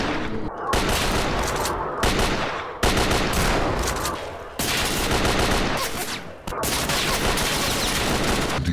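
Sustained video-game gunfire from the shooter Radiophobia 3, loud and dense automatic bursts with only brief gaps between volleys.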